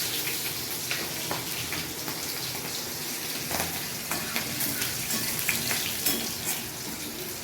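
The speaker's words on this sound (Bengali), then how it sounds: "এরপর আমি এই তেলটার মধ্যে কাঁচা লঙ্কা দিয়ে দিই আর একটু কালো জিরে দিয়ে দিই" Green chilies and nigella seeds frying in oil crackle and hiss loudly and steadily, with scattered sharp pops and small spatters close by. No one speaks.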